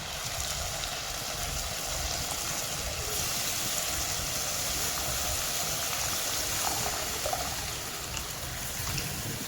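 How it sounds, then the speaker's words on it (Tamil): Tamarind water is poured into a pan of fish curry, giving a continuous close splashing, trickling wash of liquid that runs evenly for several seconds. "இப்போ புளி கரைச்ச தண்ணி வச்சுருக்கா,"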